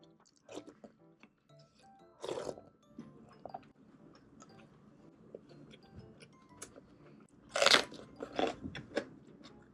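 Crunchy bites into a large cucumber chili pepper during an eating session, a few sharp crisp crunches with a loud burst near the end, close and with no talking.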